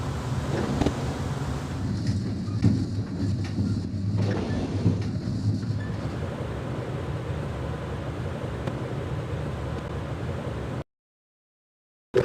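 A moving train in the stealth game Splinter Cell: Pandora Tomorrow, a constant low rumbling roar with rattling that holds steady for about eleven seconds before cutting to silence.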